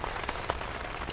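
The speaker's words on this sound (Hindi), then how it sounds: "लेकिन यहाँ पे शदीद बारिश हो रही है" Heavy rain falling at Khanpur Dam: a dense, steady hiss of drops with faint patter, continuous and even throughout, with no voices.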